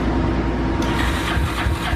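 A Honda Today scooter fitted with a CB300 engine runs on an asphalt street during its first ride, giving a loud, steady, close-up engine roar with no talking.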